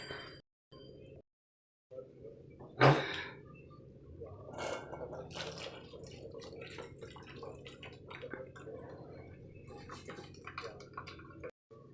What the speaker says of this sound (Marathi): या डाळीत पाणी असतं हे पाणी आपल्याला उपसून घ्यायचं आहे